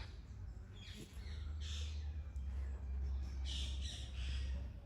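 Birds flying overhead give a few scattered, fairly faint squawks above a steady low outdoor hum, with no talking.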